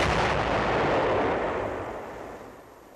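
A bomb or shell from a 1945 wartime newsreel bursts with a loud, broad roar that rumbles and slowly fades over a few seconds, with no other sound.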